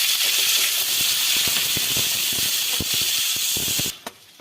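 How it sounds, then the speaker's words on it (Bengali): Onions hit hot oil already seasoned with chillies and whole garam masala while chicken chap is being made. A loud, steady frying hiss with scattered crackles runs throughout, then cuts off sharply near the end. "পেঁয়াজটা আমি হালকা লাল করে ভেজে নেব।"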